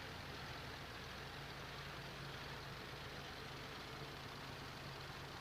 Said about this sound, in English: Tractors sound good too.